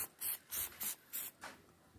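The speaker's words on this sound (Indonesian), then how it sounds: "semprot saja karena ini posisi sudah aman" Hand sprayer misting MKP fertilizer solution onto grape flowers and leaves, Jupiter grapes: five or six quick, close hissing bursts in an even rhythm, then fading, with no talking.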